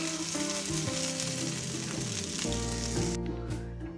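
Fish pieces fry in a pan of hot oil for Kerala-style fish pollichathu, giving a continuous close, loud sizzle and crackle with occasional stirring or turning sounds and no talk.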